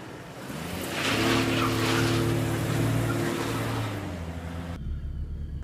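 A 1997 Jeep Cherokee engine revs while climbing a hill, a sustained droning whine that swells and holds, then cuts away abruptly near the end.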